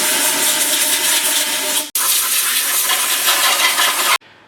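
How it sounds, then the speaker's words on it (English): Compressed air blasted into a Ford 9-inch rear axle housing in a garage, a loud continuous hiss in two long bursts separated by a brief pause, cutting off abruptly. "I'm just going to blow some compressed air on this 9-inch housing, just so if there's anything in there, it'll come out"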